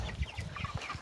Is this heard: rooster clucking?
yes